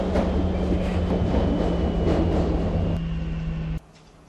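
A passenger train in a European train simulator rolls into Madrid Atocha station with a steady low rumble and a constant hum, then the sound cuts off abruptly near the end.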